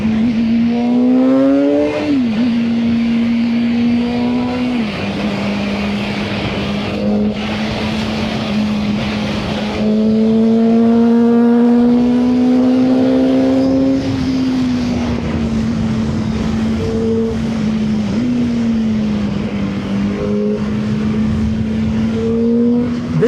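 A VOGE RR 500 S motorcycle accelerating hard in sport mode on mountain roads: a loud, close, continuous engine drone that climbs in pitch, dips briefly at several gear shifts, then climbs again, with no speech over it.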